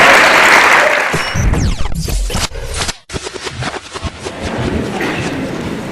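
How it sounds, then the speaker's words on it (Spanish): Audience at a theology colloquium panel applauding loudly and steadily for a few seconds. The clapping breaks off abruptly and returns more scattered before fading as a speaker starts. "También a él lo recibimos con una aplauso."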